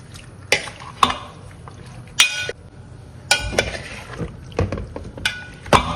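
Chicken rubbed with salt and turmeric is stirred in a metal pot, giving a series of irregular scraping and clinking strokes of a spoon against the pot, with light sizzling between them and no talk.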